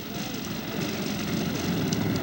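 A radio-controlled scale model airplane circles in flight after losing contact, its engine giving a continuous droning buzz that swells slightly as it passes, moderately distant, with no talk.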